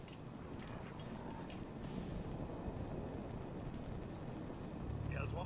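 Steady rain in the video game Fallout 4, a continuous dense hiss of falling drops with a faint gusty wash behind it, even and unbroken from start to finish.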